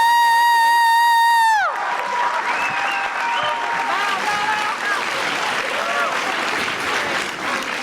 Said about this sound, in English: Can I please get one last round of applause for our incredible...